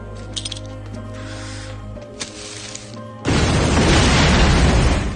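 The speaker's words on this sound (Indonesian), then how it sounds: "secara mengejutkan pemuda itu melemparkan sebuah granat ke arah rekannya." A grenade explodes in a war film trailer, a loud, broad blast that erupts suddenly after a stretch of droning score and keeps rumbling to the end.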